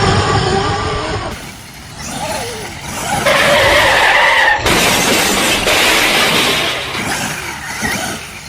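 A Traxxas X-Maxx RC truck fitted with an upgraded 80 kg servo drifts across slick dirt, giving off loud, continuous scraping and skidding surges with a motor whine that rises and falls over several seconds.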